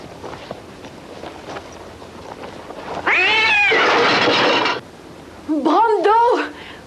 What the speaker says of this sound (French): ce putain de chat qui saute sur le piano